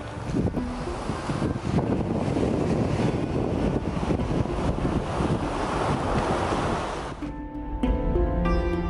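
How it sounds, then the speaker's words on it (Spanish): Steady rushing surf with wind noise fills most of the clip, loud and continuous, before giving way to a brief tonal passage at the end. "Cerrar los ojos y escuchar el sonido del mar."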